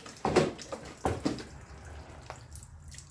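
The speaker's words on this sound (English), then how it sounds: "Look at the water coming out of there." Water drains out of a BSA motorcycle engine during a rebuild, sounding as a few close splashes and gurgling spurts, then a trickle and faint drips.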